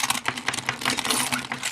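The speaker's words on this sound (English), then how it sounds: "So we'll go ahead and use a key on it directly." A metal key is pressed hard and scratched across the screen of a Nokia Lumia 920 phone, giving a close, continuous gritty rasping and clicking scrape with rapid uneven strokes.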